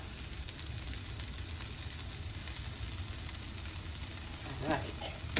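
Vegetables sizzling in a pan during stir frying, a steady crackling hiss throughout with a brief stir near the end.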